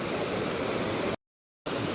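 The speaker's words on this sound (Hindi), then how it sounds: "यहाँ आवाज़ सुन लो पानी की।" Constant broadband rush of a waterfall in Chakrata, Uttarakhand, heard from the approach path, loud and close, briefly cut off by a short gap of silence before resuming.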